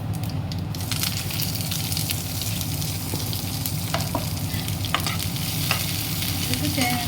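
Sliced onion and cumin seeds sautéing in oil in a pan, a loud, dense, continuous sizzle with a few scattered stirring clicks, close up and without talk.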